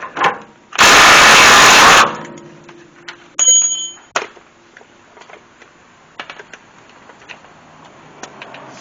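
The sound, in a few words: impact gun removing pitman arm nut with socket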